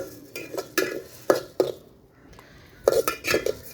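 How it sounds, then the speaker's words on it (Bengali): Rice grains scraped and stirred in a hot pot for puffed rice, with a few sharp scraping bursts and grainy rattles separated by short pauses, close and moderately loud, without speech. "এইভাবে কিন্তু একটু নাড়াচাড়া করে নেব।"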